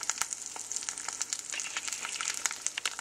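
An egg fries inside a pizza crust in a pan, giving a close, crackling sizzle with quick popping spatters throughout.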